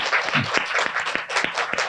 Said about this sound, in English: Shall we have another round of applause for Fabrice Aragno?